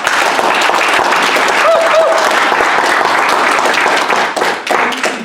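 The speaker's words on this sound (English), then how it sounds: "Do you think that deserves a round of applause?" A room full of listeners gives a round of applause at a speakers' club meeting. The clapping is dense and steady and stays fairly loud before easing off near the end, with a few voices audible within it.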